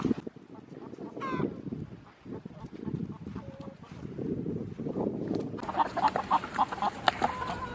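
A Polish chicken and other hens cluck and murmur inside a coop while people talk nearby and someone checks for eggs. Soft, irregular clucking runs throughout, with a busier burst of rapid calls near the end.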